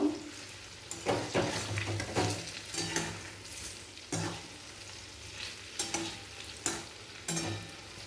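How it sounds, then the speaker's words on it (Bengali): Palm fritters (taler phuluri) deep-fry in oil under a steady sizzle, with repeated spatula scrapes and turns giving rhythmic bursts every second or so, close and moderately loud. "এরপর ফুলুরিগুলো খুন্তির সাহায্যে আমি উল্টে পাল্টে লাল করে ভেজে নেব।"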